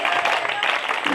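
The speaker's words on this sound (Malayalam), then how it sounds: "ഒരു ക്ലാപ്പ് കൊടുക്ക്" A group of students clapping together during a teenage health talk, a steady dense patter of hands filling the room.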